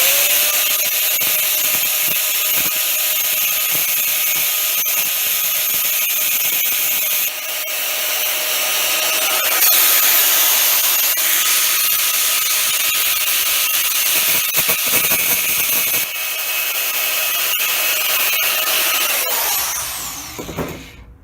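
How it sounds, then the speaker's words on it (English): A Dremel or grinder trims the end off a metal spring, giving a loud, steady high-pitched whine that runs for about twenty seconds, dips in pitch as it bites into the metal, then winds down at the end. "the end you can trim off with something like a Dremel or a grinder"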